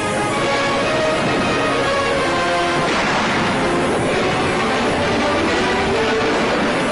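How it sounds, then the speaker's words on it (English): Tanks and assault guns rolling forward with infantry riding along, from a WW2 German newsreel: a dense, continuous rumble and clatter of tracked armor, loud and steady throughout with no speech. "Infanterie sitzt auf und rollt mit Panzern und Sturmgeschützen nach vorn."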